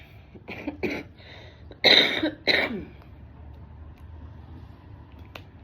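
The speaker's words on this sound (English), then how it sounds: "It's always good when I cough or something" Two loud, harsh coughs up close, preceded by a few softer breathy throat sounds, then quiet room noise.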